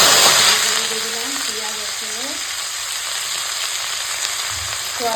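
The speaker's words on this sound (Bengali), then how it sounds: "তেল গরম হয়ে গেছে এখন শুকনো লঙ্কা আর কালো জিরেটা ফোড়নে দিয়ে দিলাম" Dried red chili and black cumin sizzling in hot oil, a loud steady crackling hiss that fades slightly after the first moment, with faint voices underneath.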